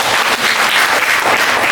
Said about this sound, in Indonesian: Saya ucapkan terima kasih, tepuk tangan dulu dong.